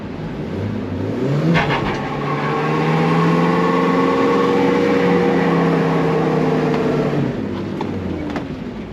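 Toyota 4Runner engine revving hard during a burnout in four-wheel drive, a loud sustained roar that climbs and holds for several seconds before easing off, heard up close.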